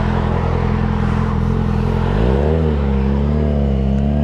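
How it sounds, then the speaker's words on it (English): A Yamaha XJ6 motorcycle on a test ride roars with a loud, close, continuous engine drone that shifts in pitch partway through. No one speaks. "But you can hear how loud this bike is."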